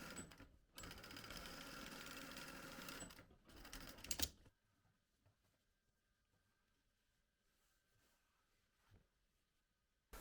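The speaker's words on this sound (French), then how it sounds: "je reviens sur l'endroit et je pique une surpiqûre de chaque côté de ma couture" A sewing machine runs loud and steady for about four seconds, stitching a topstitch roughly 6 mm beside a seam, then stops, leaving only faint handling noises.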